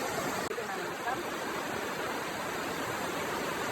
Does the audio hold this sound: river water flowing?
yes